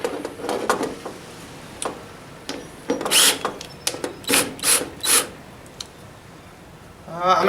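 Screws driven into a wooden ax handle, giving a series of rasping, ratcheting bursts with short pauses between them, close and moderately loud, ending in a longer grinding turn.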